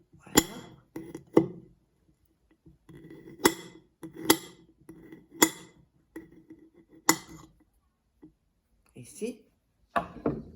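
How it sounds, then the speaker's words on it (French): Garlic being chopped into small pieces with a knife, heard as sharp, irregular knocks of the blade on a board, some in quick pairs, spread across the clip with quiet talk in between. "on va couper l'ail en petits morceaux"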